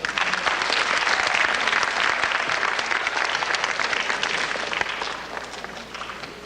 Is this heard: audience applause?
yes